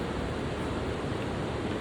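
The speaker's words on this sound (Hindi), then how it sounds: "ये पानी की आवाज़ सुनाई दे रही है।" Steady rushing water roars without pause from a nearby waterfall on the Hemkund Sahib trek in the Himalayas, a dense broadband hiss with no other sounds standing out.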